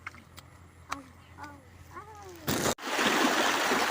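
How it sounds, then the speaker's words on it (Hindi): A voice speaks briefly, then loud rushing water breaks in and roars on steadily, close and forceful, in northeast Assam. "ये जो पानी है ना, कितना जोर से दे रहा है बाप, पूरे खतरनाक आवाज दे रहा है"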